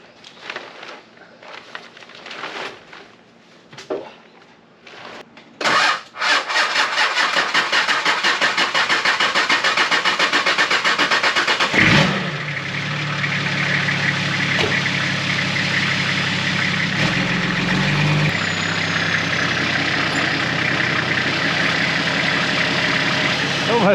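A GQ 4x4 engine cranks and catches after sitting unused for a few weeks, then settles into a loud, steady idle that carries on alone. Scattered clunks and noise come first.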